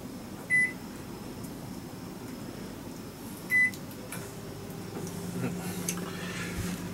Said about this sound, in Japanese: じゃあこの焼き鮭ご飯をちょっとこっちレンチン出して